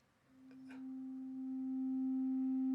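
A Computone Lyricon wind synthesizer sounds its W1 oscillator alone: a steady, sine-like sustained tone with faint upper harmonics, entering after a brief breathy onset and holding evenly to the end, with no voices.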